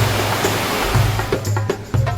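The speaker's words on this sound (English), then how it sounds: "So this is the Fitzroy Fall" Fitzroy Falls in New South Wales, Australia, sends water crashing down in a dense, continuous broadband roar, loud and steady with a low rumbling undertone.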